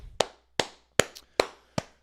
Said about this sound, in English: Clap it up one more time for the Dukies.